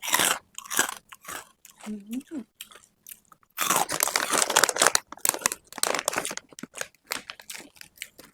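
Crunchy pork rinds being bitten and chewed close up, a run of crisp crackling bites and crinkles at irregular intervals, with a brief murmur of voice early on and no other talk.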